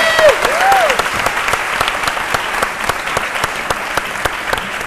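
A studio audience at a French-language television talk show applauds a guest with steady, dense clapping that stays strong throughout, with a few faint whistles early on.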